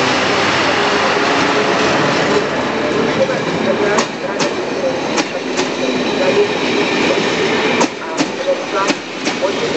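A passenger train, class 750.702, arrives at a Czech station, rumbling and clattering steadily close by, wheels clicking at intervals, while a loudspeaker voice makes a Czech announcement over the noise.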